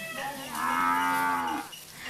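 Cattle moo once in a long, loud, drawn-out call that swells and fades, standing alone with no talk, as kept by women running small rural businesses in India.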